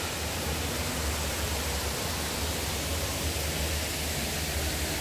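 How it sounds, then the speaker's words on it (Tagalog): A waterfall at Bato spring resort gives a loud, steady, broad rushing roar of falling water that fills the whole scene without any pause. "Ayun yung falls"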